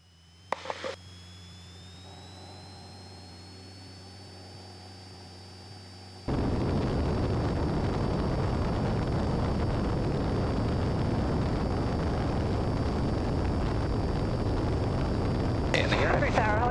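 A small airplane's engine idles with a high whine, then abruptly swells into a loud, steady roar of full throttle for takeoff that continues to the end.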